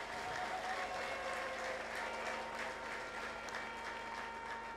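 A church congregation claps together during a sermon, a sustained, fairly even wash of many hands heard at a distance and rather faint, with no speech over it.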